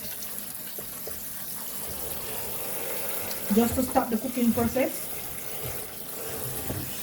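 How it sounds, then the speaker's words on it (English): Running tap water splashes steadily in the background as cold water is run over cooked pasta while a person talks over it, with a brief louder burst of gushing in the middle. "we're just going to run some cold water over it"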